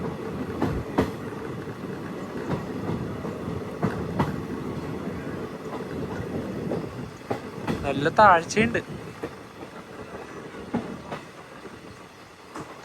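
An express train runs on the Chikkamagaluru to Bengaluru route, heard from inside a general class coach as a steady close rumble with rhythmic clickety-clack and a brief squeal, while a voice talks over it.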